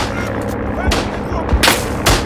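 Gunfire crackles in Isonzo, a World War I mountain warfare shooter, with several sharp shots in quick succession over a dense, loud battlefield din.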